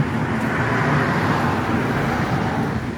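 Steady roadway noise from cars going by outdoors, a continuous broadband rumble and hiss that holds at an even level for the whole stretch, with no voices.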